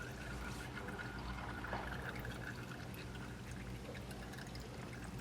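Fluid draining steadily from a Nissan 370Z during a Z1 supercharger install, a continuous soft pouring and trickling wash that holds level throughout with no talking.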